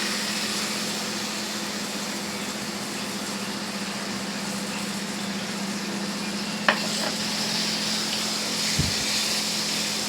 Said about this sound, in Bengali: দইটা দিয়ে ভালো করে মিনিট 5 মতন এই মশলাটাকে এবার কষিয়ে নেব